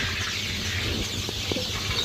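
Young chickens about a month and a half old cluck softly within a flock, a few brief calls rising over a steady, noisy background hum.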